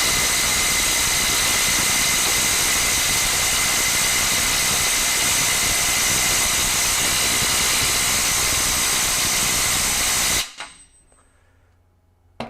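FLEX 24V compact 3/8-inch impact wrench with a 6 amp-hour battery and a welded 33 mm adapter, driving a fastener. A loud, steady hammering whine runs for about ten seconds, then stops abruptly, leaving near silence.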